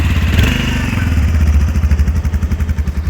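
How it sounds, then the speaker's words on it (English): A Bajaj Avenger motorcycle engine turns over and settles into a steady, rhythmic idle thump, loud and close, with no talking. "So I'll start the bike."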